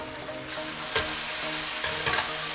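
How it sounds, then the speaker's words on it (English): Spicy Kerala-style cold water lobster roast frying in a pan: a loud, dense sizzle runs throughout, broken by a couple of brief scraping bursts as the pieces are turned, close by, with no speech. "Let's give it another flip and cook for another 5 to 7 minutes"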